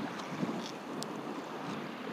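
Steady wind gusting across the water at a fishing spot, a broad continuous rushing hiss with microphone buffeting, moderate and constant throughout with no voices.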